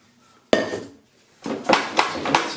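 Parboiled potatoes tipped into a metal roasting tin produce a sharp clatter, a short pause, then a run of knocking thuds and clinks as more pieces drop in, all close and loud.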